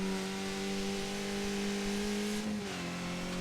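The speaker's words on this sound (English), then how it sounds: "you're just going to stay pinned, full out throttle, all the way up this hill into the end of the straight" A Skip Barber race car's engine holds full throttle in iRacing at The Glen, a loud steady drone climbing slowly in pitch, then dipping briefly as it shifts before continuing.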